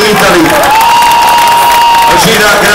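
Outdoor concert crowd at a rap show in Savignano Irpino applauding and cheering, loud and steady throughout, with a sustained tone running across the middle of the noise.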